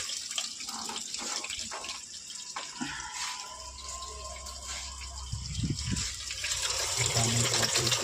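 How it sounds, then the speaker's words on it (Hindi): Water runs through the inlet valve into a washing machine that is being repaired, a continuous gushing fill with some clanks and knocks, growing fuller and louder toward the end. "देखिए मशीन में पानी जा रहा है।"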